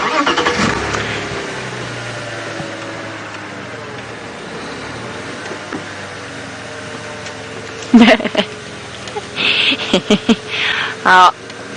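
A safari vehicle engine rumbles steadily while driving slowly and carefully during a live morning game drive in lion country, with a few louder knocks and clunks near the end and a person talking over it.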